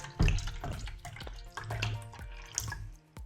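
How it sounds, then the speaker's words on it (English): Electrolyte-reduced water pours and splashes into a cup in uneven bursts, close and fairly loud, with dripping and trickling sounds as the flow stops and starts. "Let's fill this with electrolytes reduced water."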